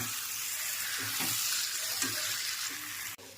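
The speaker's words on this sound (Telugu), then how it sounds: "మ్యారినేట్ చేసుకున్న ఈ ఫిష్ ముక్కలని ఇందులో వేసుకుందాం." Marinated fish pieces fry in a pan of hot oil, giving a continuous close hiss and crackle with a few soft bubbling pops, ending in an abrupt clatter.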